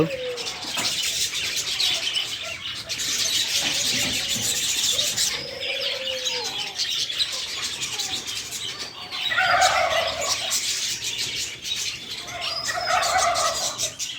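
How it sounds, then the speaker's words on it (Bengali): Birds nesting in clay pots with small holes at an eco park, giving repeated chirping calls at close range with bursts of louder, higher cries and no talk. "ভিতরে পাখিগুলো সব দেখতে অনেক ভালো লাগছে কিচির মিচির শব্দ"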